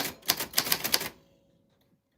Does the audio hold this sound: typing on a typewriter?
yes